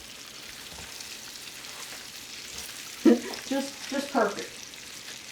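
Big pork chops sear in a pan with a steady, even sizzle and frying hiss throughout, while a voice speaks briefly over it near the end.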